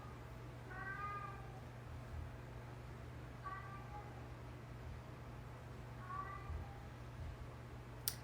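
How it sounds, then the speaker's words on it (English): A pet cat meows three times at an even pace, drawn-out and fairly clear over a steady low hum in a home during a livestream. "that cat is just telling people what's up"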